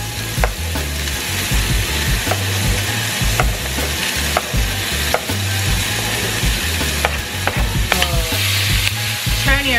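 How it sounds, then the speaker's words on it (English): Onions and carrots sautéing in a pan, a steady loud sizzle with repeated scraping stirs and clicks of a utensil against the pan, close up and with no voices. "now we're going to saute our vegetables. Okay, onions and carrots first."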